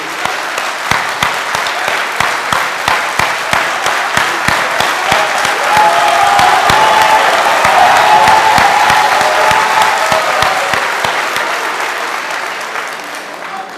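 A packed hall audience gives Senegalese politician Sonko long, loud applause that settles into sharp rhythmic unison clapping, swelling in the middle with crowd cheering and voices before easing back.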